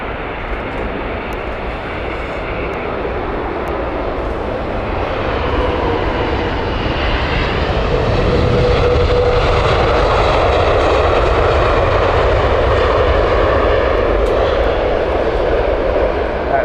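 A British Airways Boeing 777-200 jet, the Los Angeles flight at Heathrow, roars with a steady engine rumble that swells and grows louder midway, heard at moderate distance and without talk.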